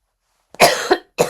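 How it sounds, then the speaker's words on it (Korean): Two sharp coughs from someone speaking, a quick double burst followed by a single cough after a short pause, close and loud with no talk. "말하다가 기침이 나오는데"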